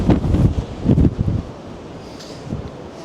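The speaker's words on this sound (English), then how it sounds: "But it is extremely, extremely windy here." Strong wind by the sea in Essaouira, Morocco, buffets the microphone in heavy low rumbling gusts, then eases to a steadier rushing backdrop with a later smaller gust.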